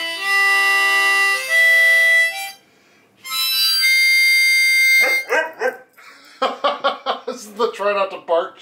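A harmonica plays sustained chords, then a dog answers with a run of short, loud barks and yips close by.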